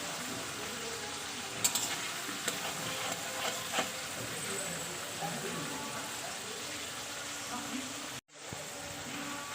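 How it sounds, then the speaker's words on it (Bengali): Green peas lightly frying in a pan give a soft, continuous sizzle with occasional clinks and scrapes of stirring, fairly quiet and close, with a brief cut near the end. "তো মটরশুঁটিটা হালকা একটু ভেজে নেবো"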